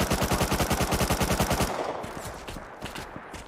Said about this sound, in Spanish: a mí me está disparando este desde la otra orilla